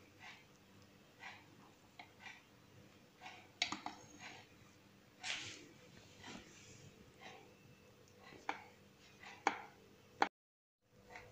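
A knife cuts through a Turkish cake, with soft, faint irregular taps and scrapes in a quiet room, ending in silence.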